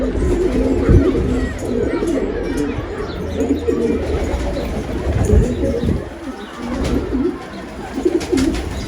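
Pigeons of a difficult breed coo in a dense, continuous chorus close by, with wing flutters and a voice speaking over them.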